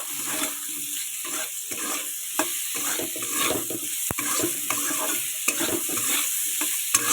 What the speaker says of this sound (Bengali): এবার আমি আলুটাকে সুন্দর করে কষাই করে নেব